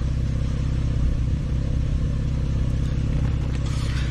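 A car engine idling steadily about two feet away, a low, even rumble with a regular pulsing beat and no change in pitch, with no other sounds over it.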